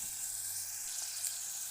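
Food sizzles steadily in a pot on the stove while being stirred, a close, even frying hiss with faint scraping and no voices.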